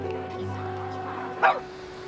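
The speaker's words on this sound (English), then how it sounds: "This is Amber, a lurcher, a favorite pet dog of Lady Richards." A lurcher dog gives a single short bark partway through, close by, over a steady low hum and background noise.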